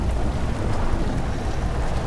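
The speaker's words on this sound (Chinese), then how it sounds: "怎么就突然下雨了呢？" Sudden rain pours down in a steady, dense wash of noise that holds evenly throughout, with no voices and no distinct individual drops.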